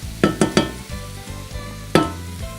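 Chopped veggie burger mixture is stirred while it fries in oil in a pan: a low sizzle runs underneath sharp utensil scrapes, three quick ones close together and one later, with music in the background.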